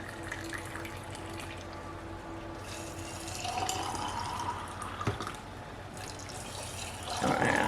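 Hot water pours into canning jars of kidney beans, a continuous splashing trickle with small drips and clinks. It swells near the end as the jars fill.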